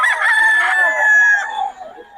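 A rooster crows once at a market in Bocaue, a long, strained call held for over a second, close and loud, then trailing off into quieter clucking.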